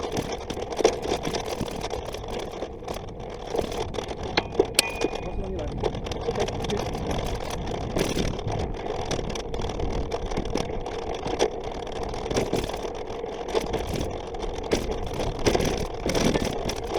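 A vehicle engine idles steadily near roadworks with workmen, a low continuous hum heard close by throughout, with some talk mixed in.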